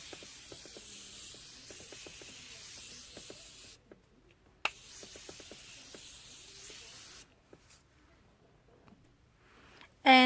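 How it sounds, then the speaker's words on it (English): A Morphe setting spray mists the face in several soft, airy hisses, each lasting a second or two, with quiet gaps and small clicks in between. A louder knock comes at the very end. "I set my face with my Morphe setting spray"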